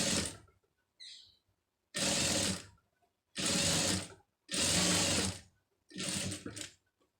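A sewing machine stitches a cloth piece in four loud, whirring runs of about a second each, separated by silent pauses, after a short faint mechanical rattle at the start.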